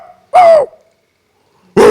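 A person imitates a small dog with a short, high yelping bark, then a second yip starts at the end, with silence in between.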